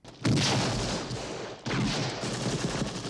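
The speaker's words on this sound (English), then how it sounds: "The actual Indiana Jones gunshot was a 30-30 Winchester rifle that was recorded." Two loud, close .30-30 Winchester rifle shots ring out about a second and a half apart, each leaving a long reverberant tail.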